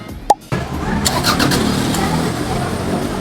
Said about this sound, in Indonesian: Ini cranking test waktu saat nyala, waktu saat di starter.